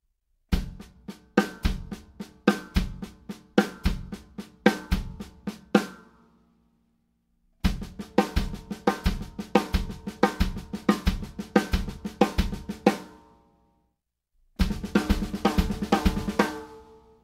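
A drum kit played with double bass drum pedals runs through a 16th-note accent exercise in three bursts separated by pauses, with fast, even kick strokes and regularly accented hits, close and alone.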